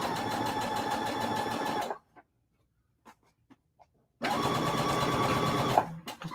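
Sewing machine stitching quilt pieces, running in two steady loud bursts of rapid stitching separated by a quiet pause with a few faint clicks.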